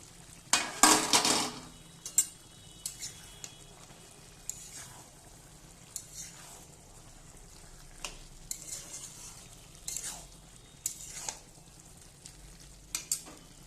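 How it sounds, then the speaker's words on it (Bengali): Boiled cabbage and fish head stirred in a pan, with a soft sizzle underneath and intermittent scraping clicks of a spatula against metal, loudest in a brief burst near the start. "তো এবার আমি ভালোভাবে নেড়ে নেব।"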